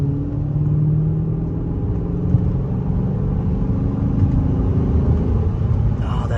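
A Chrysler 300C SRT8 with its Hemi V8 rumbling at lower RPM, a steady deep low-pitched engine drone heard from nearby throughout, with a voice talking over it.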